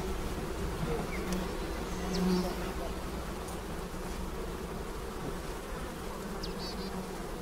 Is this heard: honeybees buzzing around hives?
yes